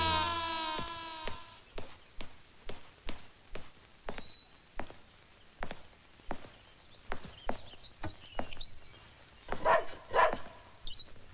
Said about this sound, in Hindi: ये रोमियो क्यों भौंक रहा है?